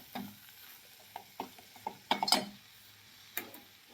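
A spoon mixes ingredients for a pea and potato curry in a pan, giving a few quiet, irregular scrapes and taps close by.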